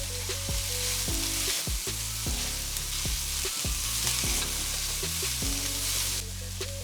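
Carrots and onions fry over medium heat for Filipino pancit bihon, a steady close sizzle broken by occasional knocks and scrapes of stirring.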